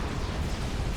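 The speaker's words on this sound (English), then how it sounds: "a whole host of Zui fire descends on Luzon" In the video game Supreme Commander Forged Alliance, a dense wall of weapon fire and explosions roars continuously, a loud broadband rumble of overlapping blasts with no pauses.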